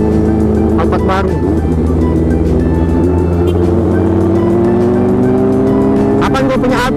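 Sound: new Toyota Alphard car passing

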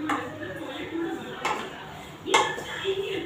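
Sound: stirring maida and ghee in a pan for barfi

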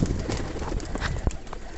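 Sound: pigeons (flyer birds) at a bathing pool

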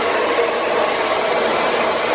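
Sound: hair dryer blow drying hair with round brush

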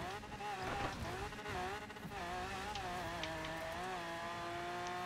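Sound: car driving on dirt in video game Forza Horizon 4

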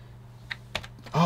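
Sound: typing on a replacement Sinclair QL computer keyboard

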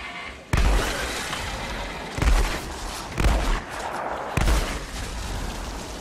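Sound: gun hip fire in the video game Outriders

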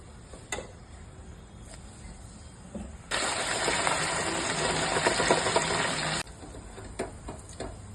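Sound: air fryer running

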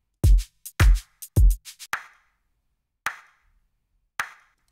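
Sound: layered clap sample panned right in drum mix

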